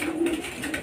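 Racing pigeons cooing and calling near a home loft as they land back on the landing board, a soft steady stream of low coos with a few brighter call notes.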